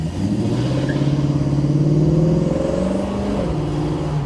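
A 1965 Ford Mustang Fastback restomod with GT trim is given a quick blip of the throttle, its engine rising to a throaty rev and then settling back, close and loud.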